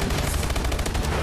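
Dense, rapid bursts of sniper rifle gunfire from the video game Call of Duty: Advanced Warfare crowd together loudly and continuously over a brief stretch, with no talk.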